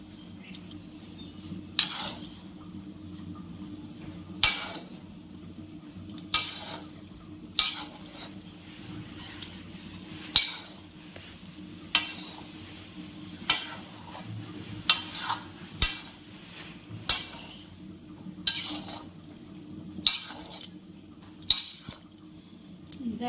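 Gobindobhog rice pulao with ghee stirred in a pot, a spoon scraping and clinking against the metal in a regular rhythm of sharp knocks over a faint background sizzle, with no one talking.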